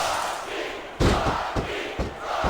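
Crowd in the Smackdown vs Raw 2006 wrestling game, a broad arena roar with rhythmic thumps and surges of cheering, loud and close throughout.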